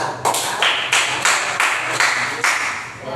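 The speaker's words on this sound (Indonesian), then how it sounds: "tepuk tangan untuk kelompok 2" A classroom group gives a short burst of applause for a student team, heard as a series of sharp, evenly spaced claps, fairly close and loud, with no talking over them.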